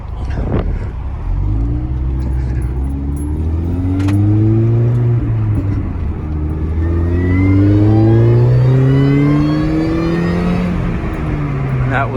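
A supercharged R53 Mini Cooper engine revs up through rising pulls, its supercharger whine climbing in pitch with each sweep, loud and close and steady throughout.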